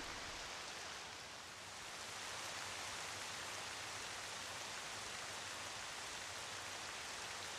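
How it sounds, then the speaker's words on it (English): Steady rain falls in the video game The Legend of Zelda: Twilight Princess, a soft, even hiss of downpour that continues unbroken and fairly quiet throughout, with no voices. "why is it raining?"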